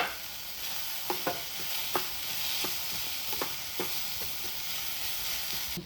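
Garlic and coriander fry in a pan with a steady soft sizzle, punctuated by light scraping knocks from stirring every second or so, fairly quiet and close, with no voices.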